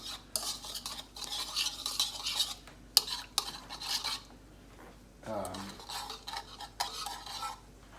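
Close-up mixing of quinoa salad ingredients in a bowl, with repeated scraping and rubbing strokes of a utensil in bursts, a few light clinks against the bowl, and a short pause midway.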